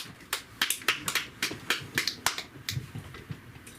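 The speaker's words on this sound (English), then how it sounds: "Love that round of applause." Sparse applause from a small comedy-show audience, a scattering of distinct claps at an uneven rhythm, close and fairly faint, tapering off toward the end with no voices.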